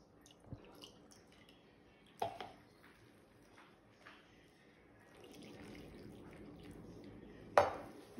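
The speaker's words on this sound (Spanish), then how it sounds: "Es agua tibia la que le voy a estar poniendo aquí para amasar." Warm water poured into corn masa dough made from maseca and flour for gorditas, heard as soft splashing, dripping and squishing with a few dish knocks in a quiet kitchen, no talking.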